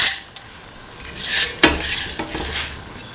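Mung beans tumble into a pot and get stirred, giving close, loud scraping swishes with a few sharp clanks of a utensil against the metal, over a faint sizzle.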